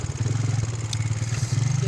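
A motorcycle rolls slowly along a rough, newly worked road into Kampung Klasuat in Sorong, its engine a steady low pulsing putter, close and continuous with faint clatter.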